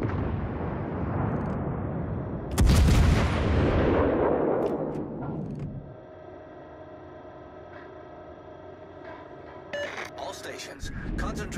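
Naval gunfire in the warship game World of Warships: Legends: a loud heavy boom at the start, then a long rumbling decay that dies into quieter background tones, with a few smaller bursts near the end.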